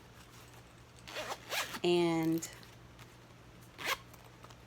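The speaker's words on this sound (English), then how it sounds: "it zips up perfectly with no bulk" A zipper closing a compartment on a Dooney & Bourke bag gives one quick, close, ratcheting zip, bracketed by a woman's soft speech before and after.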